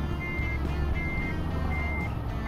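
Repeated reversing beeps from a truck backing up to a fuel trailer in Euro Truck Simulator 2, steady evenly spaced tones over a constant low engine rumble.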